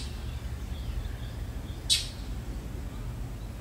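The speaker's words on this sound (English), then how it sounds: "One of them's up in that tree over there," A mockingbird gives a single short, sharp chirp from a tree partway through, heard outdoors over a steady low background rumble.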